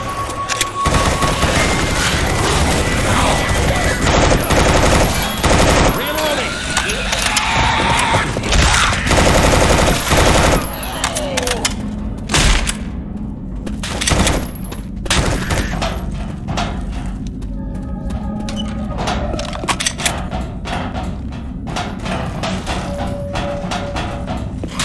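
Heavy, sustained gunfire in the co-op zombie shooter Left 4 Dead 2: dense automatic bursts and single shots ring out close and loud, nearly nonstop, easing into scattered shots toward the end.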